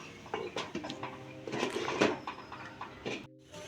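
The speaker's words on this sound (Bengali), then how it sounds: "এখন আমি ঢাকা দিয়ে রেখে দেব" A metal lid set down over a pan of thin sugar syrup, a few clinking, scraping metallic knocks and rattles in quick succession, close and moderately loud, ending in a short silence.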